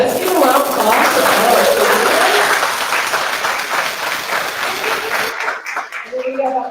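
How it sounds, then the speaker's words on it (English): An audience at a Hmong shaman and herb conference breaks into sustained applause, dense clapping filling the room before thinning out, with voices talking over it near the end. "let's give a round of applause for"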